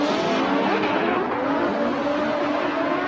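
A Formula Drift race car drifts at Irwindale, its engine roaring loud and steady at high revs throughout, with tire noise blended into the constant engine tone.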